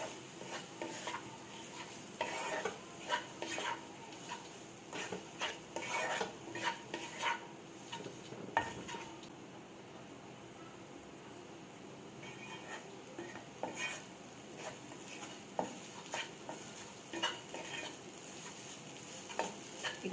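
Grated coconut sizzles gently in a pan while a spoon stirs and scrapes against the metal in irregular bursts, close and fairly quiet, with no talk, as part of a vegetarian pointed gourd dolma recipe.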